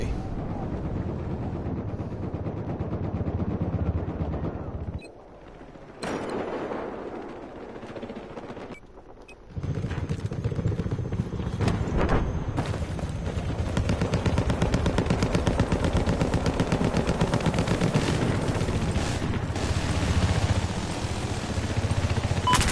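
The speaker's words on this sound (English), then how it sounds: "Freaking AK." AK rifle fire in Battlefield 4 rattles out in loud, sustained automatic bursts with brief pauses, layered with heavy combat noise and explosions throughout.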